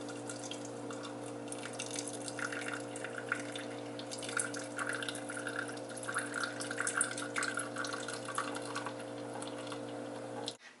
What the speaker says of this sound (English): I'm just going to strain it and get all the seeds out so it's a nice clean juice for me.